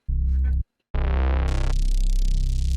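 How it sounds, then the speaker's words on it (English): Distorted reese bass synth run through an FET drive effect in FL Studio, a loud, dense, gritty tone that breaks off briefly, then returns sustained with extra crunchy high-end distortion. "get some real crazy distortion. I love this FET drive. Oh, listen to the crunch."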